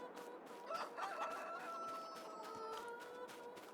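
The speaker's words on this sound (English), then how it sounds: "Let's say we put one chicken here," Chickens cluck and crow in a coop in Farming Simulator 22, a busy, steady farmyard chorus heard alone at moderate volume.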